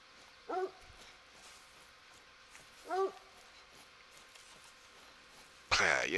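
A hunting dog in The Hunter: Call of the Wild gives two short, moderately close barks a few seconds apart against faint outdoor ambience, followed by a sudden loud burst of noise at the end.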